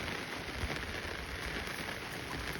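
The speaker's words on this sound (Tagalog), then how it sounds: "It's raining, man." Steady rain falls on surfaces over a garden of potatoes, roses and eggplant, a dense even patter at constant level throughout with no voices.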